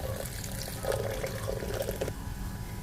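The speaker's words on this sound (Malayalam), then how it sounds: "ഇനി നമുക്കിതിലേക്ക് വേണ്ടിയിട്ടുള്ള വെള്ളം ഒഴിച്ചു കൊടുക്കാം." Water poured over ground coconut in a grinder jar for onion theeyal, a steady close trickling and gurgling flow with no voices.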